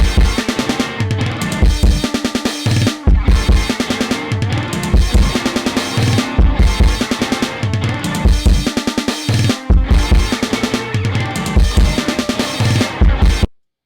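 A loud, punchy drum beat made for a track repeats in a tight looping pattern with crash hits and a deep, tonal sub 808, with no voice.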